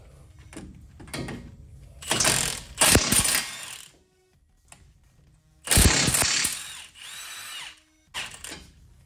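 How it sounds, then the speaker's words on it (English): An impact gun works on a bolt in a Ford F-150 hub assembly, giving several loud, rattling hammering bursts separated by short quiet gaps, with no talking. "I'm gonna go ahead and try to get the gun in there and see if we can pop it loose."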